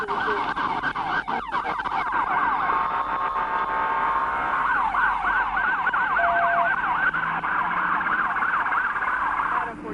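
A wailing emergency ambulance siren cycles up and down steadily at a highway police pursuit scene, loud and continuous over a rumbling background with no talking.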